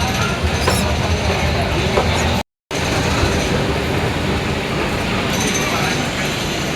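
Busy railway station ambience: a train rumbles and clatters nearby while people talk in the background, with a brief cut of silence partway through.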